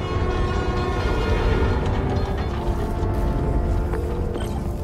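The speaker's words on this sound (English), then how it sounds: "Trusty New York subway." A New York subway train in the video game Marvel's Spider-Man: Miles Morales rumbles loudly and continuously, a dense mechanical roar with rattling and a faint horn-like tone over it, heard up close.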